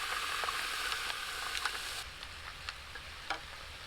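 Garlic butter prawns and steak sizzle on a Skottle braai outdoors, a steady close frying hiss with a few soft ticks and clicks, easing slightly halfway through.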